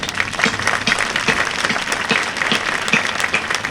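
An audience at a high school graduation ceremony gives a round of applause, dense and steady clapping at close range that holds for the whole stretch.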